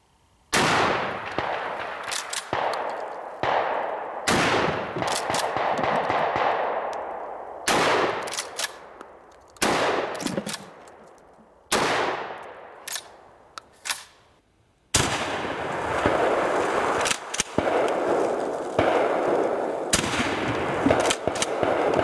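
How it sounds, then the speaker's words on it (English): Catamount Lynx shotgun firing live rounds on a hot range, loud close blasts in irregular bursts, several quick shots in a row with short ringing decays between volleys. "Catamount Lynx shotgun."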